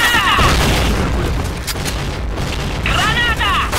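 A grenade blast in Point Blank, a loud, close booming rumble that swells and lingers, with people talking over it and game sounds around.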